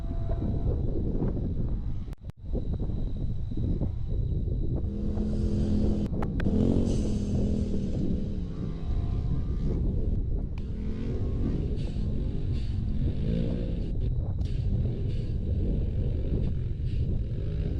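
Can-Am UTVs in a 4900-class off-road race at Cross Bar Ranch drone with a continuous engine roar. Revs rise and fall as the machines pass, with wind buffeting the microphone throughout.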